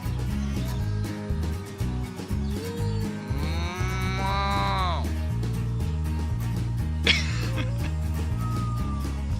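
Cows on a farm moo loudly and close, with a long drawn-out low call in the middle, while music plays throughout and people talk over it.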